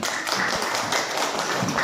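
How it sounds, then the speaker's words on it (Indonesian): Students clapping together in a classroom, a brief, close burst of quick, uneven hand claps with little else around it. "tepuk tangan untuk kita semua"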